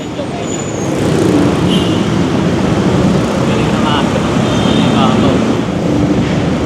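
Heavy road traffic at a highway intersection during an MMDA clearing operation: a steady, loud roar of passing cars and buses that swells after the first second and holds without a break.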